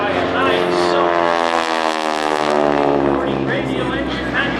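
A T-6 Texan with a nine-cylinder Pratt & Whitney radial engine drones steadily and loudly throughout, its deep rhythmic propeller note holding over airshow crowd noise.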